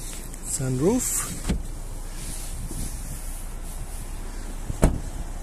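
An electric sunroof motor on a 1.4 Honda Jazz Sport hatchback whirs with a rising tone for under a second, followed by soft clunks and a sharp click later, quiet and close inside the car cabin.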